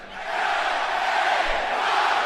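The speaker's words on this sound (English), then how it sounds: "Listen to the crowd." Wrestling crowd at WWE SummerSlam cheering and chanting, a broad arena roar that swells after a quieter start and then holds steady, heard from a distance.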